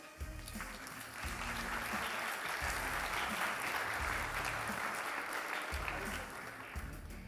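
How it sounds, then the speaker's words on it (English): Applause for the recurve men's elite eight at an archery World Cup final in Tlaxcala, a sustained wash of crowd clapping heard from a distance over a low rumble of music and hall noise. "please give a huge round of applause for your Recurve Men Elite 8"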